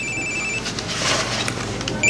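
A telephone rings indoors, a steady electronic ringtone tone with a brief warble, sounding close and clear throughout without any speech.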